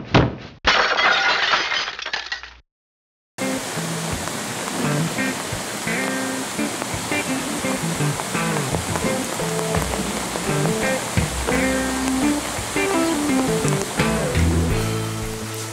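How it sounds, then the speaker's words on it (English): Heavy Korean monsoon rain pours in a dense, steady hiss for about two seconds, drops briefly to silence, and is then replaced by continuous music. "I'm just speaking about the water falling from the sky. So this rain is today's"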